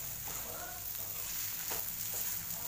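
Capsicum bharit is stirred and turned in a hot pan, a faint continuous sizzle with a few scraping strokes, quiet and close.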